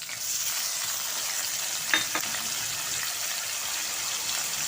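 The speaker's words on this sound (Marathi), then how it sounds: "आणि हा आता कांदा घालते, तसेच हा टोमॅटो घालते" Chopped onion and tomato sizzling in hot oil in a pan with curry leaves, a steady loud hiss throughout with a brief stir or clatter partway, no talking.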